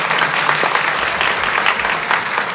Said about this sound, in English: please give her a round of applause and welcome her to the podium